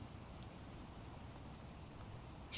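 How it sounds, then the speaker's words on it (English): Light rain beginning to fall on a tent at night, a steady soft patter of drops on the fabric, continuous and fairly faint, with a brief brighter tap near the end. "it's just about starting to rain."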